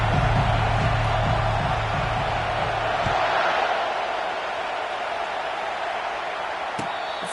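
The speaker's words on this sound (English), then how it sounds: "This crowd bringing an ear-splitting welcome to their visitors." Stadium crowd roar in an EA Sports College Football game at a Michigan vs Oregon matchup, a loud, broad, continuous wash of noise with a low rumble early and a sharp thud near the end.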